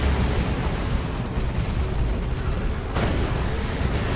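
A tank blows up in the Dawn of War 2 strategy game, a dense, rumbling explosion over continuous battle noise, with a sharper burst near the end.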